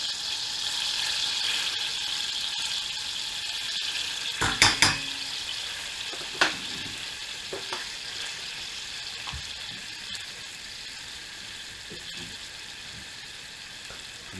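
Plain flour cooks in butter in a pan for a roux, a steady soft sizzle under a few sharp metallic clinks and scrapes of a whisk or spoon against the pan early on, then fading to quiet frying.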